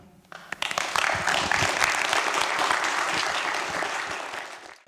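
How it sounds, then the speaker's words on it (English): Audience applause welcoming a guest at a film festival Q&A: a steady wash of many hands clapping, rising quickly after a few isolated claps and holding loud before cutting off. "Give him a big round of applause."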